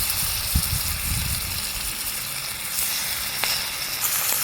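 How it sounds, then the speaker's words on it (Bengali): Pangas fish pieces rubbed with turmeric, salt and chili powder sizzle in a hot kadai, giving a steady close crackle with a few soft knocks as pieces settle and no speech. "কড়াই দিয়েছি, কড়াইয়ে আমি মাছটা দিয়ে নিচ্ছি"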